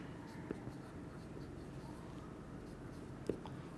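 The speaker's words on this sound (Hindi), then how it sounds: "तो मैं यहाँ पे लिख देता हूँ कि स्ट्रेंथ" Chalk or pen writing out chemistry lecture notes, a faint steady scratching with two brief sharper taps, heard alone with no talk.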